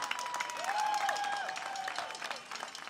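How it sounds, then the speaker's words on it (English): A union rally crowd applauds in a steady wash of clapping and faint cheers, with a voice rising above the crowd partway through. "Give yourselves an applause, and all of your members"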